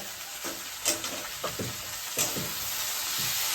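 Vegetables dry-roasting in a hot pan without salt, giving a steady low sizzle with several soft scraping stirs spread across the moment, close and fairly quiet, with no talking.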